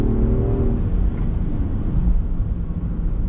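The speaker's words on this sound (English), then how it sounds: "On throttle, here we go. 8-speed drops down," A 2021 Land Rover Defender 90 with an 8-speed automatic pulls away under throttle, a loud close engine drone and low rumble that shifts tone as it downshifts, heard from inside the vehicle without talk.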